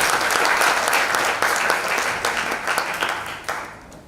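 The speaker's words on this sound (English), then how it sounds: "Let's give a huge round of applause to you," Audience applause fills the room at a youth event in South Africa, a dense, loud wash of clapping that holds steady and then gradually thins toward the end.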